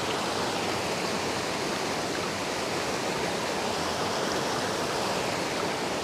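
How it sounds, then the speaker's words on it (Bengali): Water rushes downhill toward Rainbow Falls in a loud, unbroken roar of flowing water that holds steady throughout with no voices. "এই জলটা নেমে আসছে"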